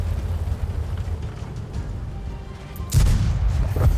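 Artillery fire in World of Tanks, a low rumbling background followed near the end by a sharp, loud booming blast and another heavy thump, with no talking.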